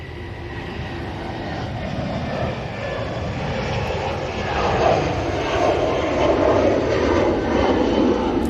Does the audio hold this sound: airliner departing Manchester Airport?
yes